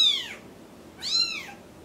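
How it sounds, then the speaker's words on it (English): A brown tabby kitten meows twice, two clear high, drawn-out mews about a second apart, close by in a quiet room. "this is the brown tabby I currently have"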